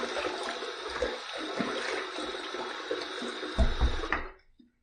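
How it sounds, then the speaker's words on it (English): Steady rushing water from a running tap while a razor is rinsed after shaving, with faint clinks partway through and an abrupt stop at the end. "Third pass done. Let's rinse."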